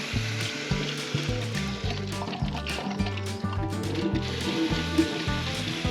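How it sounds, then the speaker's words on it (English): Electric pump circulating coolant with air in the lines in a Volvo V50 electric conversion, a bubbling, gurgling liquid sound over a steady low pulsing hum, close and moderately quiet. "You can hear it pumping around."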